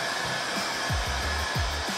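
A heat gun blowing hot air onto a car headlight housing, a steady loud whooshing roar with low thumps and bumps of handling underneath, no voices.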